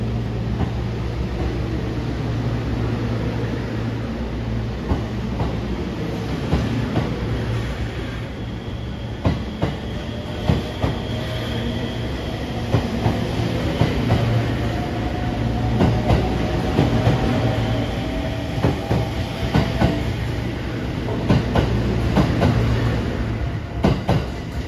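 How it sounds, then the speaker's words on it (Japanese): The Sunrise Seto sleeper limited express train at Takamatsu Station in Japan, a steady low rumble of railcars with repeated wheel clicks over rail joints and a faint rising squeal, continuous and fairly close throughout. "高松駅8時1分発、寝台特急サンライズ瀬戸号琴平行き。"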